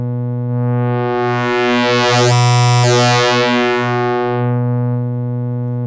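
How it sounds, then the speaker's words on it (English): Synthesizer oscillators drone loudly with a rich buzzy tone while a bright upper layer sweeps up and back down, no voices. "So now we're getting pitch, and we can hear these oscillators."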